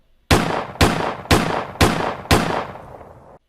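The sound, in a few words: three gunshots, sound effect in a narrated story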